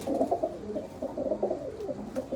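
Domestic pigeons sitting out on a cloudy, cool day give repeated low, throaty coos in close, rhythmic bursts, with no one talking.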